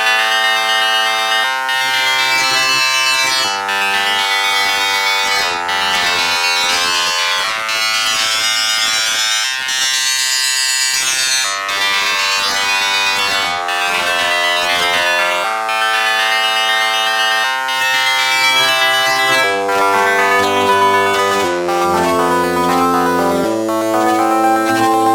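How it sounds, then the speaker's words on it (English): A Casio FZ1 sampler plays a waveform with its start and end points swept by hand, giving harsh, buzzy, shifting tones in repeated sustained notes that change timbre continuously, loud and alone. "Moving start and end times manually, you can scan through the waveform in similar fashion to a wavetable synth."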